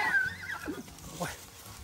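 A mare neighs in a short, wavering whinny that rises and falls, heard at moderate distance amid light background noise.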